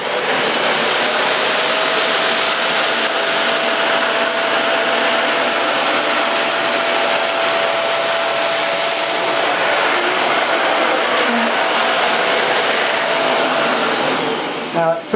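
A Vax Air Revolve Pet vacuum cleaner runs continuously, a loud, steady whine and airflow roar with a faint tonal hum, cutting off with a few clicks at the end.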